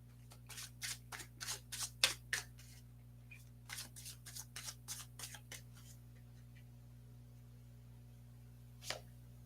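Oracle cards being shuffled by hand, a run of crisp riffling flicks in quick bursts for several seconds, then a pause and one last soft flick, close and fairly quiet over a low steady hum.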